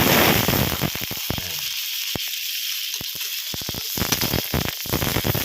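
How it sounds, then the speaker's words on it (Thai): Yard-long beans frying in a pan with shrimp curry paste, a steady loud sizzle broken by sharp crackling pops and quick stir-scrapes, dipping quieter in the middle before surging again. "จากนั้นก็ใส่ถั่วฝักยาวลงไปเลยนะครับ"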